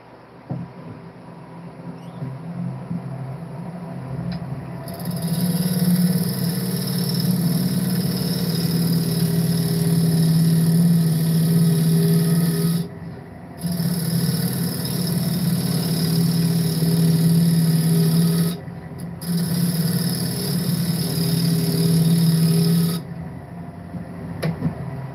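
A wooden workpiece spins on a machine chuck at a mill, giving a steady mechanical hum that starts after a few quiet seconds, dips briefly twice and then cuts out near the end.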